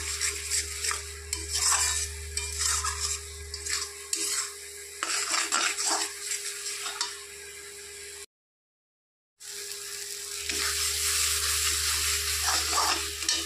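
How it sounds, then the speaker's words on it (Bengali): Ground mustard paste is stirred in a frying pan, with a spoon scraping and clinking against the metal over a steady low sizzle and a constant hum. The sound cuts out briefly partway through, and no one speaks. "তো সর্ষেটা দেওয়ার পর একটু নেড়ে চেড়ে দিতে হবে।"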